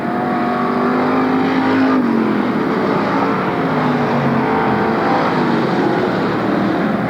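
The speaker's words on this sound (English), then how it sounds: "Dan Ferrari making that move outside of Les Draper, trying to get out in front there, and he does" Multiple 360 sprint cars and street stock cars roar around a dirt oval at Marysville, California, engines droning loud and continuous with pitch rising and falling as they pass, forming a dense racing wall of sound.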